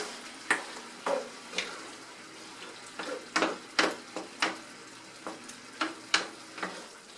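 A spoon stirs whole tomatoes through Texas hash in a pan, a series of wet scraping strokes and squelches in an uneven rhythm, close and clear over a low sizzle.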